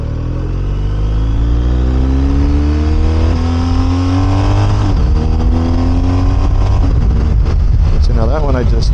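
A BMW R 1250 RS motorcycle engine revs and accelerates steadily, its pitch climbing through the gears, loud and close with constant engine drone.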